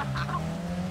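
Car skidding and spinning out in a destruction-style racing video game, a steady engine drone with brief tire-squeal bursts early on, loud and continuous with no talk over it.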